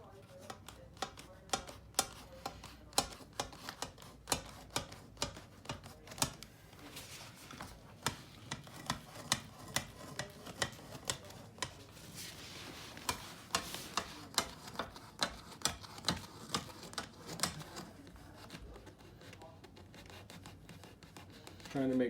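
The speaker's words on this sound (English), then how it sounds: "using your square for your straight edge and just a utility knife, you just go ahead and cut." A utility knife cuts a rubber home-gym floor mat along a square, making a long run of short, close scratching strokes in uneven rhythm.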